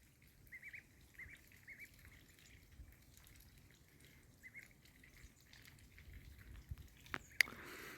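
Ducklings peep softly in short bursts over quiet outdoor ambience, with faint water sounds and a splash near the end.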